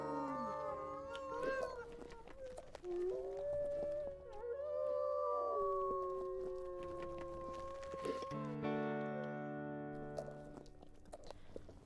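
A wolf howls in WolfQuest, a long sustained wavering tone layered with other pack members' howls, fairly faint against soft game ambience, ending in a sudden shift to a bright chiming sound.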